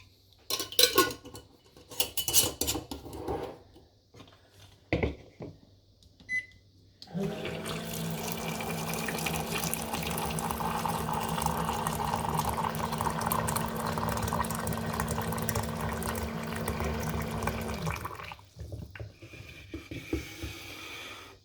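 Hot water poured from a kettle into a teapot over dried raspberry leaves, a steady resonant pouring stream lasting about ten seconds, preceded and followed by clinks and handling sounds of cutlery and pot.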